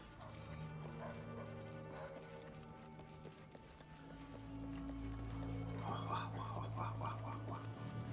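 Dogs bark in the lower level of Shadow of the Tomb Raider, heard as scattered yips and barks over dense game music and ambience, growing busier and louder in the second half.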